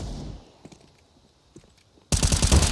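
Counter-Strike wallbang gunfire through a wall on Overpass during a professional match, a sudden loud burst of rapid automatic shots following quieter scattered in-game clicks and footsteps.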